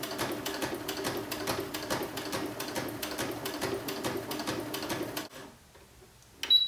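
A sewing machine stitching fabric runs with a fast, even mechanical chatter of needle strokes for about five seconds, then stops abruptly, leaving near silence before a brief clunk.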